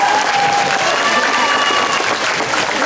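Steady, loud audience applause for teachers at a school event, a dense continuous wash of clapping from a large crowd with faint voices mixed in.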